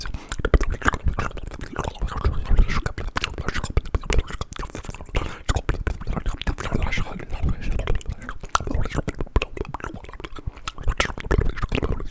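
Crunchy food is chewed close to a sensitive microphone, giving dense, continuous crackling bites and mouth noises with no talking.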